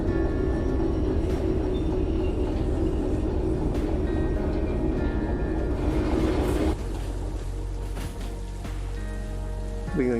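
In the Derail Valley video game, a train shunts with a dense, continuous rumble and rattle of rolling stock that drops to a quieter hum partway through, with scattered metallic clanks.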